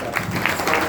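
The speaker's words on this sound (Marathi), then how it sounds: "या गुरुबंधू मंडळीसाठी एकदा जोरदार टाळ्या वाजवतात" A kirtan audience bursts into brief, dense applause, a steady clatter of many hands clapping together at close range for under a second.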